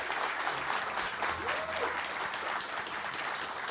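Applause from a live audience at a game studio fan festival welcomes a studio head on stage, a full, even wash of many clapping hands sustained throughout without a break.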